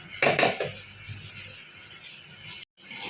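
Metal pots and a wok clatter and clank as cooked meat is transferred from the wok into a pressure cooker, several sharp clustered hits early on, then quieter scraping and faint handling noise in a home kitchen.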